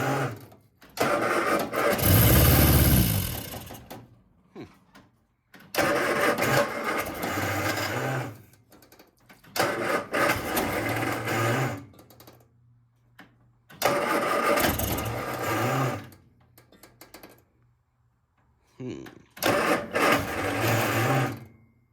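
A 1971 MG Midget engine is cranked on the starter after a squirt of carb cleaner, in several loud separate bursts of a few seconds each, separated by short pauses, with no voices.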